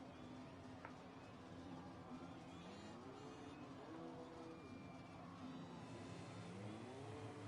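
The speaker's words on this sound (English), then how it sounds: "we have the first car going out on circuit" A race car in a racing video game heads out onto the circuit in Britain for a dry qualifying session. Its engine note climbs and shifts through gears at moderate distance while commentary runs over it.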